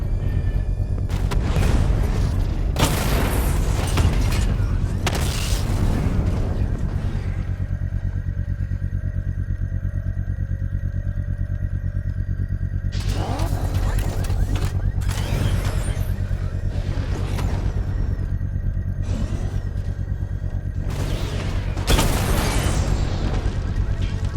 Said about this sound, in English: I can use the power winch to trigger a controlled explosion. Bomb destroyed.